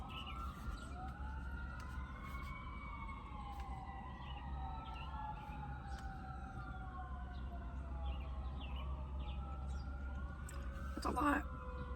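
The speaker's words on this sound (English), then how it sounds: "That sounds like a lot of sirens." Many emergency vehicle sirens overlap for a sustained stretch, their wailing tones sweeping up and down at different pitches over a constant low rumble of traffic. A louder burst comes near the end.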